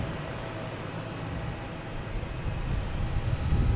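Avianca airliner in special livery at Boston Logan Airport, a steady broadband jet roar that swells louder toward the end.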